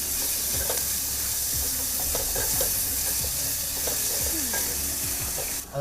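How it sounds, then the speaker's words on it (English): Onions frying in hot oil give a constant close sizzle and hiss, with scattered clicks and scrapes of stirring across it and a short thump at the very end. "Drop in the onions. Give them a good stir."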